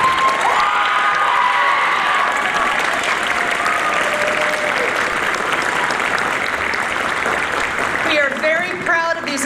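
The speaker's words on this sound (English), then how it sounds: "let's give more tons of applause to our fabulous Rotary Music and Theater Scholarship awardees for 2023" Loud, sustained audience applause with some cheers and voices for the 2023 Rotary Music and Theater Scholarship awardees at a youth benefit concert, with a few faint tones sounding near the end.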